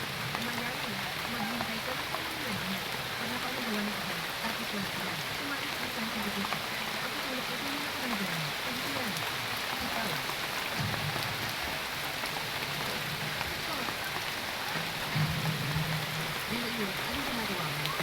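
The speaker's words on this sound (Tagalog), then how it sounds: "Maulan dito guys" Heavy rain pours down in a dense, constant roar of drops on surfaces, with voices talking intermittently beneath it.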